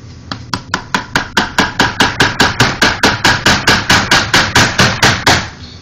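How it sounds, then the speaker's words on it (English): A drywall mud jug used as a makeshift hammer strikes about twenty times in a steady, fast rhythm, each blow a sharp, loud, close knock with no talk. "that's how you use a mud jug as a hammer"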